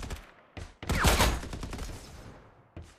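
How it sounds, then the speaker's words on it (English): Gunfire in the video game Farlight 84: a sharp shot, then a loud, dense burst of rapid automatic fire that trails off, with further isolated shots close by. "Open fire."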